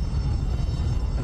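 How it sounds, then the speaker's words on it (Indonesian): A firefighting helicopter flies over a mountain wildfire near Los Angeles, spraying water. Its loud, steady, rumbling roar fills the whole moment, with no pauses and no voices. "Kita lihat ada helikopter terus menyiramkan"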